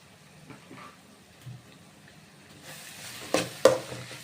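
Cabbage fry with chili powder being stirred in a pan: a faint sizzle builds up, then two sharp close spatula scrapes and knocks come near the end.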